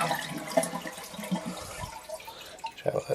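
Water trickles and drips in a cottage toilet as it flushes and drains, faint irregular splashes and gurgles close by.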